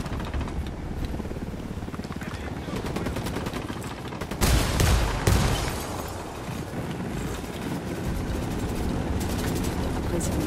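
Gunfire rattles through a firefight in the Ghost Recon Wildlands video game while a helicopter's rotor drones steadily beneath it, with a louder burst midway. Voices speak over the battle.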